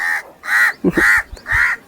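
Crows caw loudly and repeatedly in a steady rhythm outdoors in a farm field, with harsh calls close by and a few soft knocks between them.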